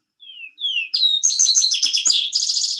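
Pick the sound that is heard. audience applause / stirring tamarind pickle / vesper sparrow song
vesper sparrow song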